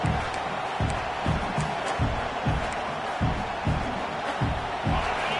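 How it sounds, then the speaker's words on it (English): A large football stadium crowd roars steadily, with rhythmic thumping bursts cutting through the constant noise. "This crowd bringing the energy and noise early."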